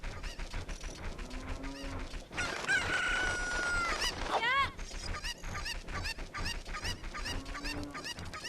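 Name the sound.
chickens crowing and clucking in Ocarina of Time video game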